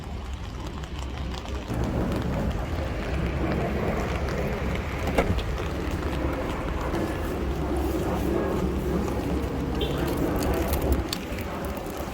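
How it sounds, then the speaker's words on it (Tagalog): Heavy rain and strong wind roar steadily for the whole stretch, a dense broadband wash with low rumble, loud and close to the microphone, with no talk over it. "Ang lakas ng ulan."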